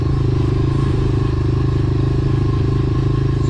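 Dirt bike engine running hard and steady, then upshifting into second gear as the clutch is pulled and the shifter clicked; a loud, close, continuous engine drone with a brief dip at the shift, no talk.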